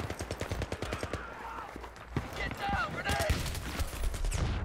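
Rapid gunfire in the shooter game Battlefield 3: a steady rattling burst of shots for the first two seconds, then more scattered fire and mixed game effects, with a voice speaking over it.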